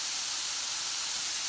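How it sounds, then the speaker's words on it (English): Steady, soft sizzling hiss of beef frying and browning in a pan for ramen, continuous and even throughout. "now while that beef is sizzling and browning and cooking through"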